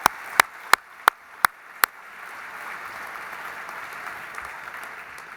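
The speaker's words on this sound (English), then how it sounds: "Once again, let's give him another big round of applause." An audience at an opening evening for an Auschwitz exhibition breaks into applause, preceded by six sharp, evenly spaced loud claps before the broad, sustained crowd clapping takes over and continues steadily.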